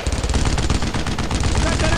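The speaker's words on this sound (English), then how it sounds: "Only a matter of time before my whole damn fire team gets destroyed by the bloody MG" Machine gun fire in the World War II video game Brothers in Arms: Road to Hill 30, a loud, dense stream of rapid rattling shots that continues without a break.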